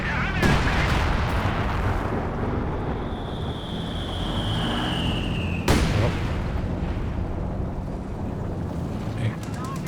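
Tank cannon fire in the Company of Heroes 2 video game, with a few sharp booms over a constant rumbling battlefield din of engines and distant explosions.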